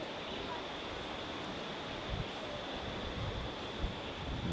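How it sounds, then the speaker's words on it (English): A steady broadband rushing wash of the May River rolling through a valley, heard from a distance, even and constant with occasional soft wind bumps on the microphone. "You can hear the river rolling in the valley here."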